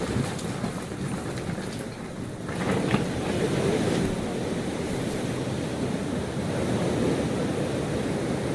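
Floodwater of the Kosi River, running at over 40,000 cusecs through the Kosi barrage during the Uttarakhand flood, makes a loud, steady, broadband rushing roar that continues throughout without any voices.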